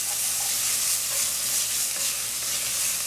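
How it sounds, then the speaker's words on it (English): Saltfish frying in a pan, a steady close sizzle with broad hiss and faint stirring scrapes throughout, no voices. "Cook that up, let that fry it nicely for a bit."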